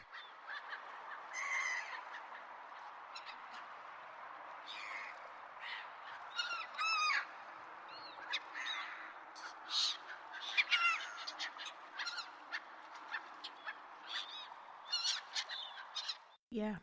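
A flock of geese honks continuously, a dense overlapping chorus of squawks and calls at moderate distance, with no speech.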